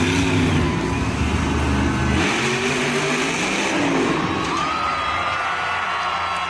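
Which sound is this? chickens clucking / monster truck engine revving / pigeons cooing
monster truck engine revving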